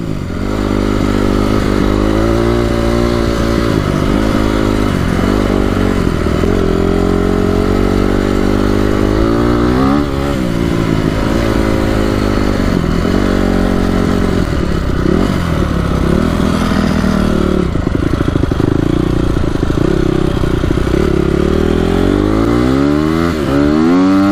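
A Honda CRF250R dirt bike, just repaired after refusing to start and now being broken in, runs loudly and close by, its engine rising and falling through repeated revs.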